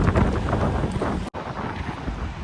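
Strong wind roars and buffets the microphone steadily, with a brief sudden dropout partway through.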